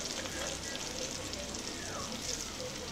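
Small shallots frying in oil in a pan for drumstick mutton kulambu, a soft, continuous sizzle and crackle heard close but faint, with no pauses.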